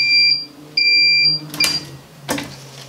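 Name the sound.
heat press countdown timer beeping when finished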